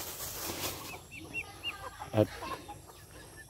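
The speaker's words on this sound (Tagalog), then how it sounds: "Ito yung may nakaunang manok dito." Chickens cluck in a backyard coop, soft scattered clucks with a brief rustle or flap, while a person speaks quietly nearby.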